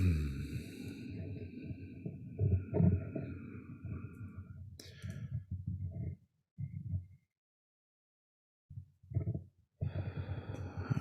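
Slow, deep breaths drawn in during a guided meditation, heard up close as long breathy rushes with soft clicks, separated by brief silent pauses.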